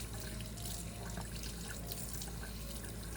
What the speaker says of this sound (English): clean water also helps wash away soil that has become compacted or accumulated